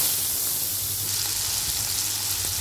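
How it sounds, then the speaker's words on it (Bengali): Fish fry in hot mustard oil in a wok, giving a steady, close sizzle that fills the whole stretch with an even hiss and no pauses. "ওর মধ্যে দিয়ে দিলাম সর্ষের তেল, দিয়ে মাছগুলো আমি দিয়ে ভেজে নিব"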